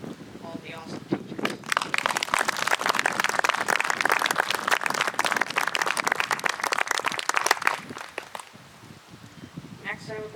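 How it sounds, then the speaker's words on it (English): An audience claps for the teachers at a school graduation ceremony, a dense, steady round of applause lasting several seconds, with a speaking voice briefly before and after it. "let's give a little round of applause for all the awesome teachers"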